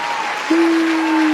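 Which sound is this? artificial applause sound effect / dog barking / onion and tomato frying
artificial applause sound effect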